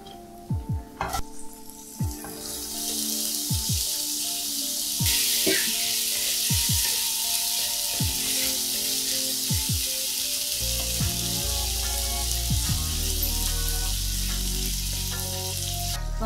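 Boiled eggplant and field beans go into a pan of hot fried spices for a Telugu vankaya bobbarlu curry, with several sharp clinks and taps, then a loud, sustained sizzle that swells after the vegetables land.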